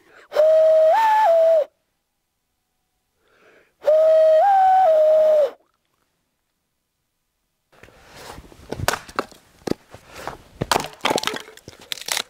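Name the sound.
person imitating a loon call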